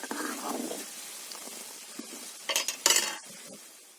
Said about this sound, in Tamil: இது ஒரு இருபது நிமிஷம் வரைக்கும் நம்ம அப்படியே கிளறி கொடுத்துக்கிட்டே இருக்கலாம்